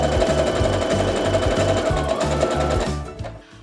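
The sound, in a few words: sewing machine stitching quilt block on the bias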